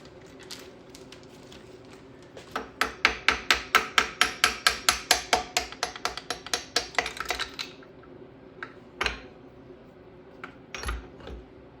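Gentle hammer taps ring out during engine disassembly on a 1970 Triumph TR6 PI, in a quick run of about twenty even metallic strikes. A few scattered louder knocks and clinks follow, all close by.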